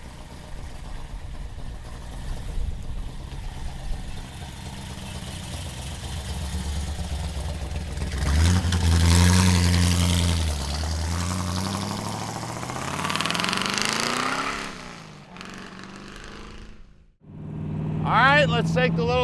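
A 1932 Ford Roadster Zephyr hot rod engine runs nearby, steady at first and then swelling into a louder rising rev before dropping off and picking up again, with a voice talking over parts of it.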